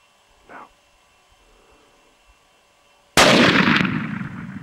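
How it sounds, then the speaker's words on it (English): A single loud rifle shot, fired at a black wildebeest while hunting in Namibia, cracks out sharply near the end, followed by a long rumbling decay. A faint short voice and small rustles come earlier in an otherwise quiet field. "if you get a shot, you can take him, shoot him on the shoulder"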